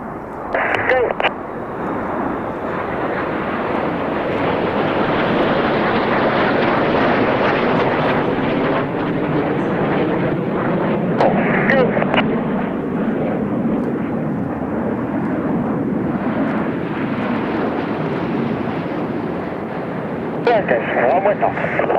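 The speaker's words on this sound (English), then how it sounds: "Each aircraft will perform a barrel roll, followed by a cross, followed by a second barrel roll in a maneuver called the double rolls." Red Arrows jets performing double rolls at an airshow at the Festival of Speed, a loud continuous roar of jet engines building and fading overhead, with a commentator's voice over it.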